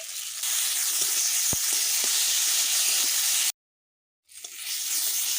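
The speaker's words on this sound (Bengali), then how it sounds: "আলুগুলো দিয়ে দেব ভালোভাবে ভেজে নিতে হবে প্রায় দু মিনিট মতো ভেজে নেব" Cut potato pieces frying in oil in a pan give off a steady, bright hiss with a few soft stirring knocks. The sound cuts out briefly to silence, then returns.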